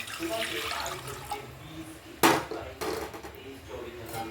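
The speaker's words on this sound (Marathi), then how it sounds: "आता याच्यात हे पाणी टाकून देऊ" Water goes into a cooking pot in a home kitchen while making rice-dough kurdai, a short splash with a sharp metallic clank of the pot, followed by softer trickling and light vessel sounds.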